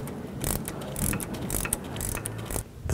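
A ratchet clicks in quick repeated bursts while tightening brake caliper pins on a 1997-2004 Dodge Dakota, with close, crisp metallic ticks and no talk.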